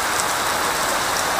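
Steady, dense rain falls on a surface at a fishing pond, a loud, even hiss with no pauses.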